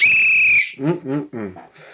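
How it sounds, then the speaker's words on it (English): A referee whistle gives one loud, sharp blast, followed by someone talking. "I done blew this whistle so many times."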